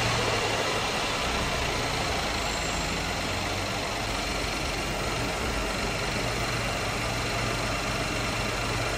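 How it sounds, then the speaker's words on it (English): A car engine idles steadily and close by, a continuous dense rumble with faint rhythmic pulsing and no voices. "if we now start the engine and maybe just try and hold the engine"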